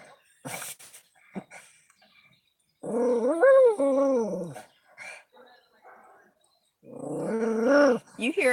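A small dog of about 12 pounds huffs and growls at a larger dog in bursts of throaty snarls and whimpers, up close, with short gaps between outbursts.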